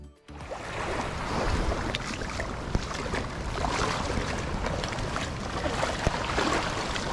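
Small dinghy crossing open water on a roughly two nautical mile run near the Cocos Keeling Islands, a steady broadband wash of water and hull noise with wind, continuous and fairly loud throughout.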